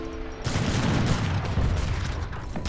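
Mortar fire and dense gunfire in a strategy video game battle rattle as a loud, continuous barrage of overlapping shots and booms, starting abruptly after a brief quieter moment and staying busy to the end.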